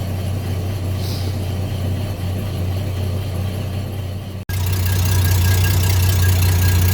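A 1993 Ford XG, an ex-police ute, idles with its automatic transmission put into first gear, giving a steady, loud low engine drone that thickens and grows louder after a brief dropout partway through.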